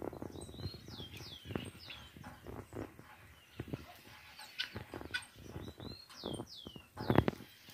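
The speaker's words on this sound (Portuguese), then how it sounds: "Olha que lindo esse passarinho." A small bird chirps in short, repeated upward-sweeping calls against a quiet room with soft knocks and shuffles nearby.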